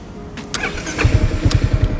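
A bored-up Yamaha XMAX 300cc scooter cranks and catches, its starter whir giving way to a quick, throbbing idle of rapid low pulses, loud and close, with no speech.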